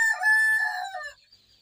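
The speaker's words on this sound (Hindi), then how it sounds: "यहाँ पर अपनी छोटी मुर्गी यहाँ एक कमरे में रखाए हुए हैं।" A rooster crows once, loud and close, from among chickens kept in a room, a single bright, drawn-out call that fades quickly into silence.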